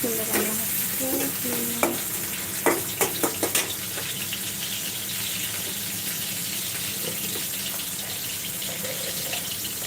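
Chopped onions fry in a pan with a steady sizzle while being stirred, with a few sharp scrapes and clinks of the utensil near the start, continuous and close, with no talking.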